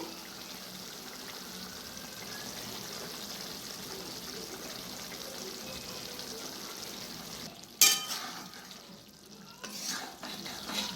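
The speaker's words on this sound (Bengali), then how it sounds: "এবারে আমি গ্যাসটা কমিয়ে 5 মিনিটের মতন ফুটিয়ে নিচ্ছি।" Fish chorchori simmers on low gas with a steady soft bubbling hiss, then a sharp clatter of utensils breaks in near the end, followed by some stirring noise.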